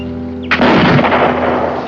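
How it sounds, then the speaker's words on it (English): A single loud rifle shot from a 1969 Western drama rings out close by after a moment of quiet, with a sharp crack followed by a long rolling decay. "Oh, he can shoot."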